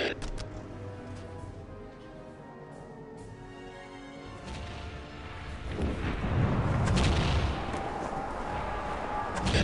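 Leman Russ battle tank firing its main gun in Warhammer 40,000: Dawn of War – Soulstorm, a heavy booming blast rising midway and rolling on loudly amid battlefield noise and crackling explosions.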